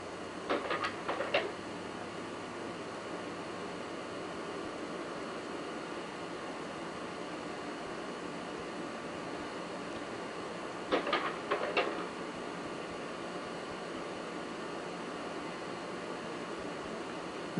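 A log printer in a missile launch control center at Grand Forks AFB prints onto printer paper in two short rattling bursts, one early and one later, over a steady background hiss and hum.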